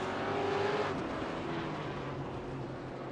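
GT4 and V8 race cars run in a racing video game, their engines forming a steady, droning roar close by with a brief rising whine early on.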